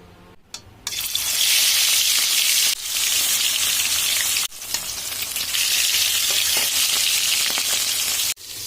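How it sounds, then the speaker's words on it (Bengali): Rohu fish pieces frying one by one in hot mustard oil in a wok give a loud, steady sizzle that runs nearly throughout, with a few brief breaks as pieces go in. "এবার দিয়ে দেবো মাছগুলো দিয়ে এক এক করে ভালো করে ভেজে নেবো আমি"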